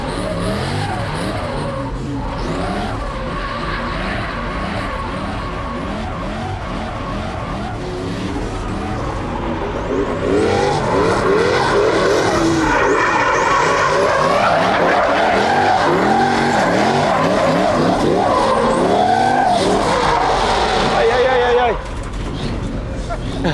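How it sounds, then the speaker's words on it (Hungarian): A Toyota Soarer UZZ30 drifts on a race track, its engine roaring and tyres squealing in a long continuous skid that grows louder midway, with a voice talking over it. "Mert hogy neki az egyenesbe is driftelnie kell."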